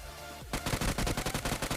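Rapid automatic gunfire in the battle royale game BGMI, a sustained burst of many close, loud shots in quick rhythm that starts abruptly after a brief quiet moment.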